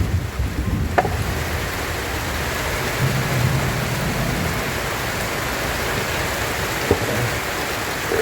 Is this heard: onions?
no